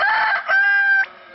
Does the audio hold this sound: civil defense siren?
no